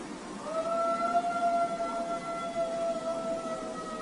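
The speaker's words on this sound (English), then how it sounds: "so I'm wondering if this was just a really old dog trying to howl." An old dog howls at night in long, wavering sustained tones, fairly loud and close, with a second faint voice trailing alongside and a low background hiss.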